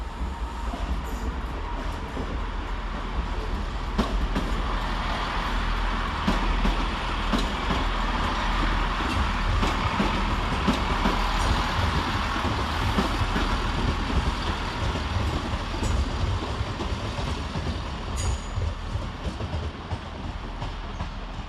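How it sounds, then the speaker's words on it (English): Train 165113 pulls away from Redhill station toward Gatwick Airport, a steady rumbling diesel drone with rolling wheel noise and occasional clicks sustained throughout at close range. "165113 heads off for Gatwick Airport."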